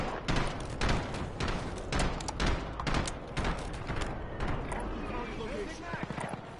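Precision airstrike explosions in the Warzone video game land as a rapid run of heavy booming impacts, dense in the first few seconds and then thinning into rumbling aftershocks, with a radio-style voice briefly audible underneath.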